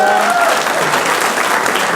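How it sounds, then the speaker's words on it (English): Studio audience applauding on a talk show, a loud continuous wash of clapping with a brief voice and tone at the start. "we have to give her another round of applause"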